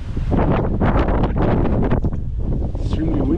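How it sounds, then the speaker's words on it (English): Strong wind buffets the microphone in loud, continuous gusts high up in the main town of Folegandros, a Greek island, with a voice faintly speaking underneath. "extremely windy today"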